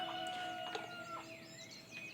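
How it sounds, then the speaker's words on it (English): Video game chickens cluck and squawk in a busy overlapping chorus, high bird calls sweeping up and down over a quiet background. "Alright, you chickens, chill out."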